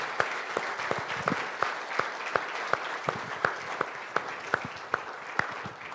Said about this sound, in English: But I just want to give them a round of applause.